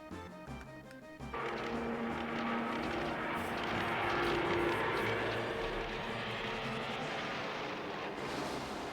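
An airplane makes an emergency water landing in Final Fantasy VII after its tail is hit. Quiet music gives way to a sudden loud, sustained roaring rush of wind and engine noise that holds for several seconds, then eases slightly near the end.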